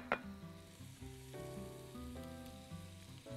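Finely chopped onion sizzles and fries in a spoonful of oil for Mexican rice, a steady close crackling hiss with stirring noises over a low background hum, no talking.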